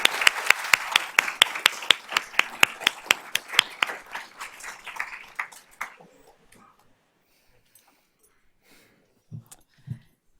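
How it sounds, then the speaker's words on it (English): A round of applause at a school board of trustees awards presentation, a crowd clapping steadily for several seconds before thinning to a few last claps, then quiet with faint room noise and a couple of soft thumps. "Let's give them a round of applause while they're getting their picture made."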